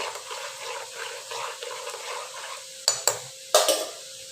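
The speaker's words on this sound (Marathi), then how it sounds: "आता हे मी सगळं असं मिक्स करते." A cooked dish being stirred in a pan after ground masala paste is added, with a soft continuous scraping and a few sharp spoon knocks against the pan near the end.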